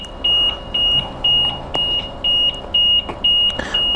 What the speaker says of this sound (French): Alarme BMW, impeccable.